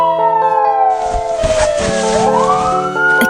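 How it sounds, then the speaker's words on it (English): A loud wailing police siren rises and falls close by, its pitch sweeping down and then climbing again over a rumble of traffic. "the sound of police sirens pierced the air"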